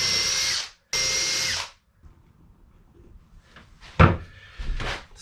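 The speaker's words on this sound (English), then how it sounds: "I need to drill pilot holes into mahogany." A power drill bores pilot holes into mahogany aboard a wooden boat under restoration, two close, loud whirring bursts close together, then quieter knocks and handling sounds.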